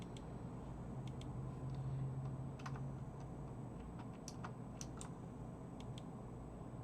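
Quiet clicks of computer keyboard keys being pressed, scattered taps across a few seconds over a low steady background hum.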